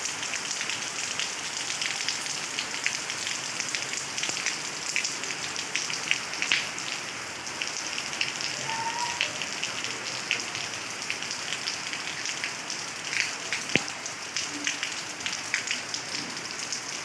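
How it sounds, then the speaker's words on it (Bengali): Heavy rain falling steadily, a dense continuous patter on surfaces with scattered louder drops, even and unbroken throughout. "বেশ জোরে পড়ছে বৃষ্টিটা"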